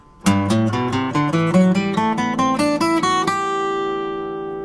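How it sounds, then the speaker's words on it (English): A guitar plays a steady ascending major scale, each note plucked in even rhythm, with audible string squeaks and buzz, ending on a ringing final note. "there was a whole lot of string noise"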